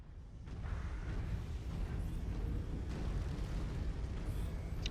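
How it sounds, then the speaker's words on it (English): An ammunition explosion in the mech combat video game MechWarrior 5 rumbles as a dense, continuous low roar with crackling bursts, steady and fairly quiet over five seconds with no voices. "with an ammo explosion, apparently. Oh, I love the animation for that."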